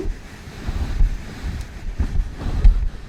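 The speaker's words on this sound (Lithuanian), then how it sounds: "Atidarom langą ir pažiūrėkit koks vėjas." Strong gusting wind rushing through an open camper window, a loud low roar rising and falling in uneven surges with buffeting rumbles.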